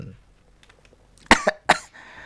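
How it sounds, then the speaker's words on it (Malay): Quiet, then two or three sharp, close coughs in quick succession, followed by a brief breathy tail. "Sampai aku terbatuk."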